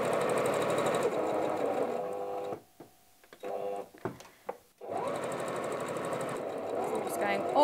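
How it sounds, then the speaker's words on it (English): A sewing machine stitches a fabric wallet, starting with a backstitch: a steady, close whirring run that stops briefly for a few seconds in the middle with small clicks, then resumes at full speed. "So just secure the start of the stitch with a back stitch."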